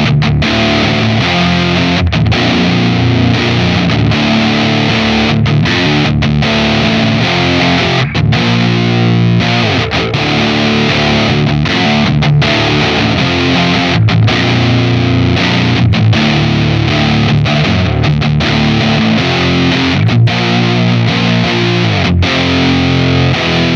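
Electric guitar played through a Lantern Sycamore pedal with the mids pushed slightly and the bass cranked, giving a loud, thick, continuous distorted tone with chugging riffs and sustained chords throughout, no voices.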